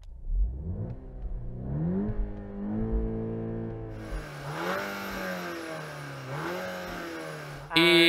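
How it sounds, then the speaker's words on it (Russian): A VW T-Roc R sits stationary while its engine is revved repeatedly, the pitch climbing and falling in several swells over a steady idle, with a brief louder burst at the end. "Мама, можешь погазовать в своем Тироке"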